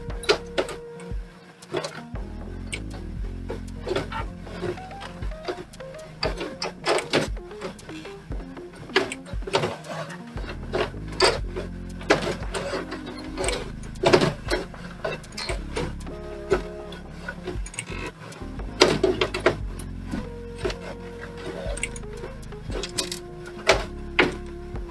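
A Kyocera printer's stuck print head is pushed back and forth by hand, giving scattered clicks, knocks and short mechanical rattles through a quiet room, with occasional faint hums.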